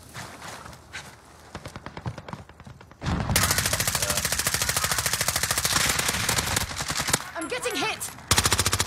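Light machine gun fire in a battle royale video game: rapid sustained bursts, sparse at first and then long and loud, with brief pauses and faint voices underneath.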